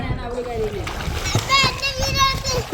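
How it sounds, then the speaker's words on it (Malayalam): Young children leap into a pool at home for swimming practice, their splashes landing in a few quick bursts while kids chatter and call out close by. "നമ്മുടെ കുറുമ്പൻസ് നീന്താൻ വേണ്ടി വെള്ളത്തിലേക്ക് ചാടിയ കേസ്"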